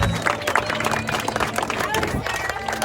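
A round of applause for Pastor Derek Gates fills a church gathering, dense and steady clapping from a crowd with music and voices mixed underneath throughout.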